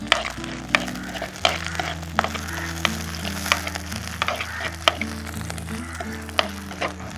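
Curry leaves, about two sprigs, fry in a pan of oil for a Kerala-style fish molee, giving a steady close sizzle with crackles and occasional stirring clatter throughout, with no talking.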